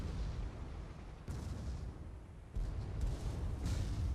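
Mortar fire in an airship battle video game, heard as a dense stream of heavy booms and rumbling blasts that swells louder at the midpoint, with continuous battle noise underneath and no voices.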